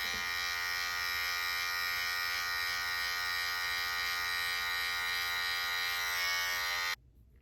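Electric hair clippers buzzing steadily during a high taper self-cut, a constant, close, loud drone with a fixed hum that runs unbroken and then cuts off abruptly near the end, with no talk.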